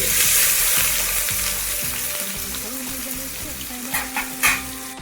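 Onions fry in oil in a pan for a spicy Andhra fish curry, with a strong close sizzle, spatula stirring strokes and a few utensil knocks near the end.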